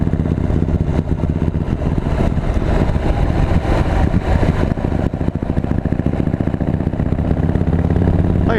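Steady, loud engine rumble from a Harley-Davidson Road King Special motorcycle while riding, a constant throbbing drone with wind noise and no pauses throughout.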